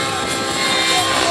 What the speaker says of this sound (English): Now you'll notice the staccato type movements from time to time with this chopper.